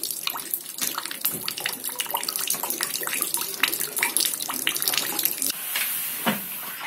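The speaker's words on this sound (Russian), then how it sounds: "Как результат, кровля, или точнее то, что от нее осталось, протекла." Rainwater leaks through a damaged roof into a fifth-floor apartment, pouring and splashing continuously with dense dripping, loud and close, and changing to a smoother running flow near the end.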